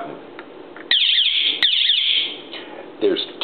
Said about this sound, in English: There's two beeps when you're disarming.